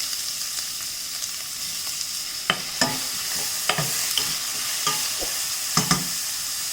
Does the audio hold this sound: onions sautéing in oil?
yes